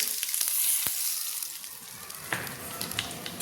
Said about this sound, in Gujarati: હવે આપણે આ વઘારને ખમણમાં આવી રીતે રેડી દઈશું